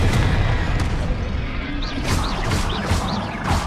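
In Hogwarts Legacy combat, the Confringo explosive spell lands with booming blasts amid continuous loud rumbling, followed by several sharp, repeated impact bursts and whooshes.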